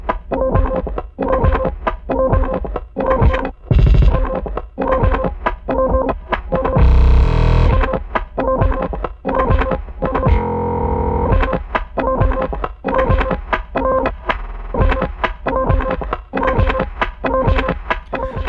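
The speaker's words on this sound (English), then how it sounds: "it's basically a way of getting a kind of glitch fill kind of sound. I call it my fake Squarepusher effect." A glitchy, grainy live-looped fill made with effects processing stutters in choppy repeating bursts, a dense distorted electronic texture pulsing steadily throughout.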